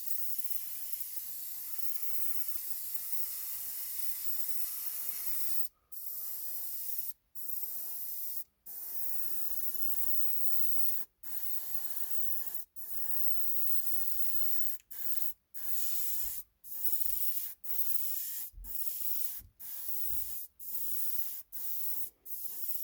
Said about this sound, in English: very fine spray.